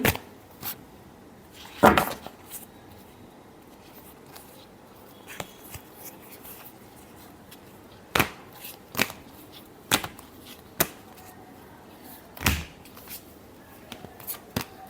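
Tarot cards being shuffled by hand, with a few sharp riffling bursts and scattered light taps and flicks over a quiet background, close and fairly soft.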